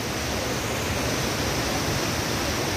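Steady broadband rush of river water flowing at dusk, loud and continuous with no breaks, heard alone without any talk.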